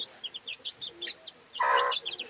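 Brooding kienyeji hen on a poultry farm giving a run of soft, quick clucks, with one louder, drawn-out cackle near the end, close by and alone without talk.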